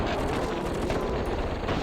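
Missile crabs firing in the real-time strategy game KKND, a dense rumbling barrage of blasts and booms that sounds loud and continuous throughout.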